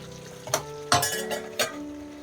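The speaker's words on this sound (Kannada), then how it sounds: "ಚೆನ್ನಾಗಿ ಫ್ರೈ ಮಾಡ್ಕೊಳ್ಳಿ. ಫುಲ್ ಡ್ರೈ ಆಗೋವರೆಗೂ ಫ್ರೈ ಮಾಡ್ಕೊಳ್ಳಿ." Chicken fries in a pan and gets stirred for a dry chicken dish. Three or four sharp scraping clinks of a spoon against the pan stand out close and clear over a faint sizzle, with no talking.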